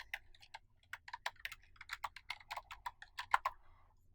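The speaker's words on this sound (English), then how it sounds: "So if we type in our first reference" Typing text into a computer keyboard, a quick irregular run of crisp, close key clicks over a quiet low hum.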